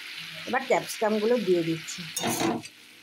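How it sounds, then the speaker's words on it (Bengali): Chopped capsicum, added after spring onion, sizzles as it is stirred and fried in a pan, with a few louder scraping, tonal bursts over a steady hiss for about three seconds. "এরকম করে 5 মিনিট একটু নাড়াচাড়া করব।"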